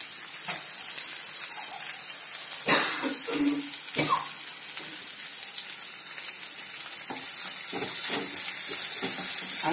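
Sliced onions, ginger and garlic frying in oil in a pan for a brinjal and prawn curry, giving a steady hiss of sizzling with bursts of crackle and a few clatters of stirring.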